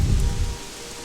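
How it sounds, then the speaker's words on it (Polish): Steady rain falls in the video game Gothic 3 as a loud, dense hiss that drops away sharply after half a second, leaving a quieter wash, with no talking. "No a to nadal pada."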